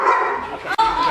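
A dog yips and barks in short bursts close by, mixed with people talking over it at an animal-rescue interview segment.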